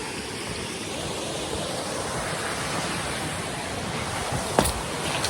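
Steady rain pours over an off-grid riverside spot, a dense, even hiss filling the air close by, with one brief sharper knock near the end.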